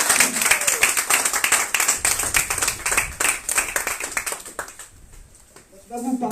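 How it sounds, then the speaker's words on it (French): An audience claps for the welcome team at a talk, a dense burst of applause for about five seconds that thins out and fades, with a voice coming in near the end. "on peut faire juste un applaudissement pour le service de bienvenue"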